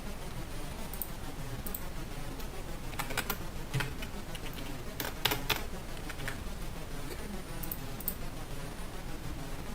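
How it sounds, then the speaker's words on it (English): Rapid typing on a computer keyboard during a coding session, irregular bursts of close, crisp key clicks with short pauses between flurries and no talking. "I'm typing too fast."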